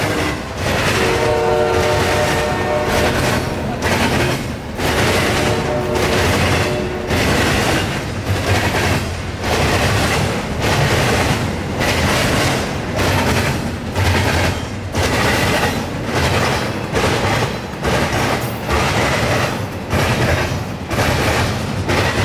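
An intermodal freight train out of Jacksonville rumbles past loud and close for the whole stretch, its horn blaring in repeated long blasts over the steady rolling clatter of cars.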